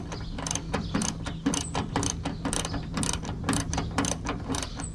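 A socket wrench with large sockets ratchets on the tailgate support cable bolts of a 1987 Suburban, giving a quick run of close, sharp clicking bursts that repeat steadily with no talking.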